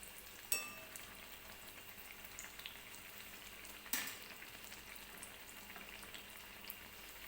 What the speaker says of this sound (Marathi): तर मी अशा पद्धतीने सगळ्या पुऱ्या ज्या आहेत त्या तळून घेते